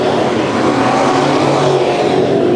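Race cars roar around the dirt oval at Bakersfield Speedway in tight racing. The engine noise is loud and continuous, dense and close, with no break and no voices.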